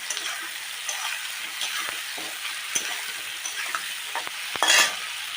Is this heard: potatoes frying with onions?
yes